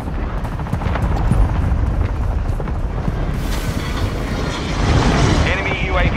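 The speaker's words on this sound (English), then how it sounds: "Hostile VTOL in the area." A hostile VTOL aircraft roars in Call of Duty Modern Warfare 2, its loud, steady engine rumble mixed with gunfire and explosions from the game battle, with a voice talking over it.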